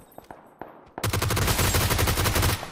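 Gunfire in the video game PUBG Battlegrounds: a few sparse, faint shots, then a sudden loud sustained burst of rapid automatic fire that lasts about a second and a half and ends abruptly.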